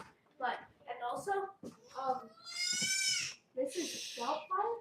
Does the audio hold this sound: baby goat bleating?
yes